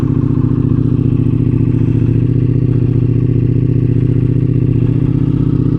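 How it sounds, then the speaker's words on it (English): Harley-Davidson Pikes Peak bagger fitted with a full Akrapovic exhaust idling after a cold start, a loud, close, steady deep lumpy rumble with rapid even pulses and no voices. "This is now the full Akrapovic exhaust on this Pikes Peak, and it sounds freaking amazing."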